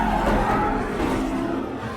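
A Ford prototype race car drives through an aircraft hangar, its engine roaring steadily and tires skidding with a sustained squeal, loud and close, continuous throughout with no talk.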